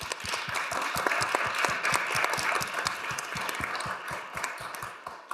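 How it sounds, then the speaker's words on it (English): An audience applauds panelists at the end of a panel event, producing a sustained wash of many hands clapping, steady and fairly dense, that runs for about five seconds before starting to taper. "I would like to you to all join me in 2 rounds of applause."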